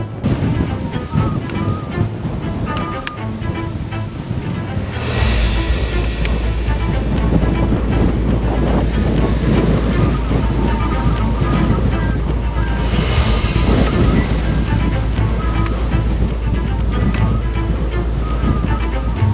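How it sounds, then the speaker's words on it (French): Powerful mountain wind gusts pound the microphone on the Tour du Mont Blanc trail, a loud, unbroken roar swelling into heavier blasts twice along the way. "Il y a des rafales de vent qui me poussent carrément sur le côté."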